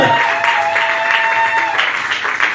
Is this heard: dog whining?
no